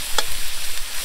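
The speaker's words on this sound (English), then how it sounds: "It's just frying off a little bit there in yeah, the pan" A soft, even sizzle of Thai red curry paste frying in coconut oil in a pan, with a brief scrape of stirring, heard close and without voices.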